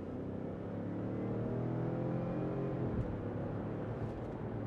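A 2020 Ford Expedition King Ranch 4X2 in sport mode accelerates hard, a steady engine drone with rising harmonic tones that holds loud and close throughout, with no talking.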